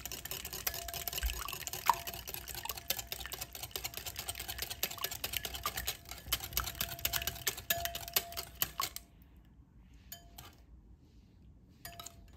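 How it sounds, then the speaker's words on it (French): Whisking mango purée and eggs together in a bowl, a rapid run of fine clinking strokes against the bowl that stops abruptly partway through, followed by a near-quiet stretch with a few faint taps. "Et je fouette jusqu'à ce que tout se soit bien mélangé."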